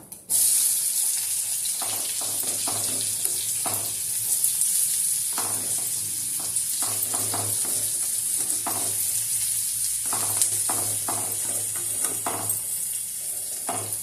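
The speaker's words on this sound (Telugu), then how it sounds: "ఇప్పుడు నూనెలో ఉల్లిపాయలు, పచ్చిమిరపకాయలు వేద్దాం" Onions and green chillies frying in hot oil, giving a loud, continuous sizzle and spray with irregular stirring scrapes throughout.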